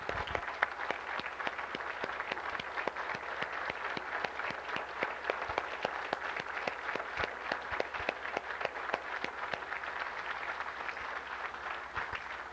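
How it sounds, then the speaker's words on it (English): Steady, dense applause from a crowd, many hands clapping continuously at even loudness throughout, with no talking. "I would like to stand and give Neil Gilman a round of applause."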